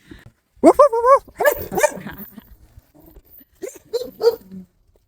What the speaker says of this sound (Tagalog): meron silang isang aso dito